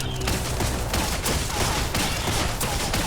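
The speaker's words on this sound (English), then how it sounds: "Bullets everywhere." Dense, continuous gunfire crackles in the shooter game Biomutant, with rapid overlapping shots forming a steady barrage at close range.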